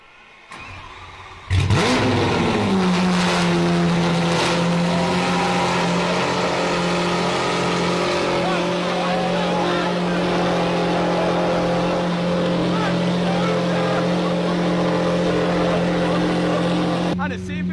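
A Lamborghini SVJ engine, just out of limp mode with faults, fires up loudly and settles into a steady, close idle with a rising rev, running continuously under occasional background speech.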